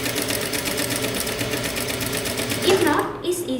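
A sewing machine runs steadily while stitching fabric for a kimono jacket, a fast, even mechanical whir that stops near the end, with a person talking over it.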